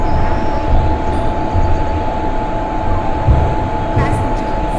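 A Vande Bharat Express train rumbles steadily in a train video game, a loud continuous low drone with a faint high hum and occasional clanks.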